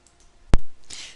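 A single sharp computer mouse click, close and crisp, when the IPR icon is selected in a course grid, followed by faint room noise.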